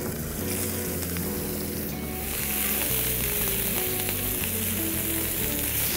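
Meatballs hit hot, smoking oil in a pan cooked outdoors by a waterside, a loud, dense, continuous sizzle that swells as they go in, with a low steady rumble beneath.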